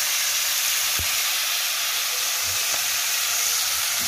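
Tomatoes frying in a pan produce a steady, fairly loud hiss and sizzle, with a couple of faint knocks from the utensil and no voices.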